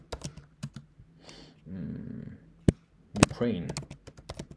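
Quick bursts of keystrokes on a computer keyboard entering data into an Excel spreadsheet, close and crisp, alternating with someone talking between the bursts.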